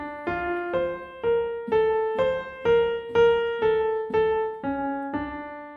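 A keyboard plays the slow melody of a theme, single sustained notes struck one after another at an unhurried pace, clear and alone with no talking.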